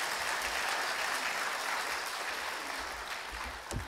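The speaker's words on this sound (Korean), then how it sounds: "선교사님 나오실 때 하나님께 감사하는 마음으로 큰 박수로 환영해 주시면 좋겠습니다." Church congregation at a Sunday service applauding to welcome a missionary to the pulpit, a broad steady clapping that fades slightly toward the end, with a brief thump near the close.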